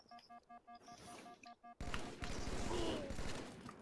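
Rapid electronic beeps give way to a sudden loud burst of Halo 2 gunfire and rumbling noise.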